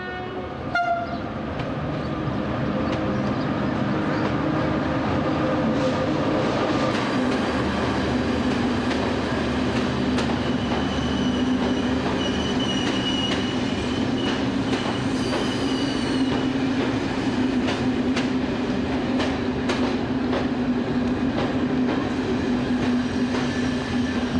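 An ONCF CC 72000 (DF 100) diesel locomotive rolling into a station, a continuous loud rumble of engine and wheels with a horn sounding early and faint squeals along the rails, no voices.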